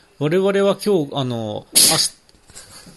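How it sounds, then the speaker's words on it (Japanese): A person sneezes once, sharply and close by, right after someone speaks in a quiet inn room at a highland resort. "今のくしゃみか"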